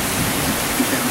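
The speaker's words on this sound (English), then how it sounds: "got water at my feet running out the back here" Rainwater draining out through a drain hole at the back, a steady broadband trickling wash that runs continuously and fairly close, with no clear speech over it.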